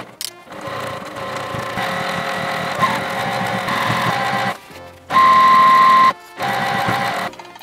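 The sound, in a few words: sewing machine stitching the edge of a folded hem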